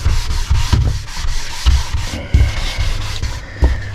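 A sanding pad is rubbed by hand over a uPVC door in steady back-and-forth strokes, close and fairly loud, a rhythmic scratchy rasp with no talking.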